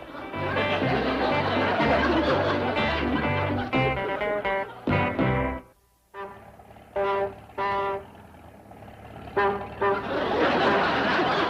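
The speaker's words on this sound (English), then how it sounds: "must you honk that horn?" Repeated car horn honks in short bursts, loud and close, with a pause in the middle, over a busy musical background, in a classic TV series scene.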